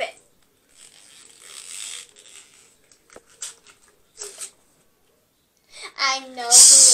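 Blind bag plastic packaging gets ripped open by hand, a short, loud tearing burst near the end after scattered bits of children's talk and quiet handling noises.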